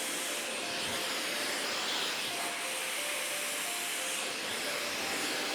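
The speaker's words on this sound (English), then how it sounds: "I'm just gonna continue blow drying on the other side as well" A hair blow dryer runs continuously and close, a loud steady whooshing roar with slight shifts in airflow as it moves while drying waves, with no speech.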